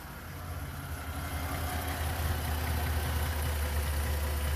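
A car engine with 180,000 miles on it idles just after an oil change with a steady, even low hum and a faint mechanical ticking; no one speaks.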